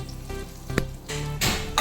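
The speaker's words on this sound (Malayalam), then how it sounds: "നല്ല തിളച്ച വെള്ളമാണ് ചേർക്കാം." Boiling water poured into a pan of fish curry masala sets off a soft sizzle and bubbling, with a louder hiss of liquid hitting the hot masala near the end.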